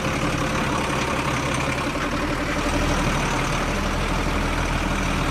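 A Hino truck engine idles with a steady, dense low rumble that stays constant and loud from start to finish, with no voices.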